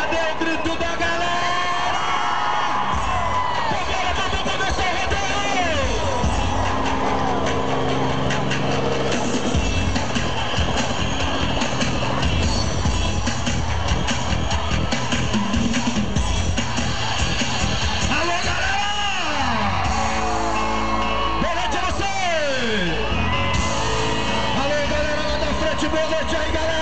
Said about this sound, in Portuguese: Cadê o grito da galera?